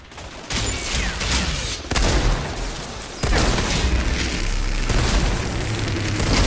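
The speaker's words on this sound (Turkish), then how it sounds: "Bomba." Loud booming bomb blasts in the Outriders game, several heavy explosive bursts a second or so apart over continuous rumbling combat noise.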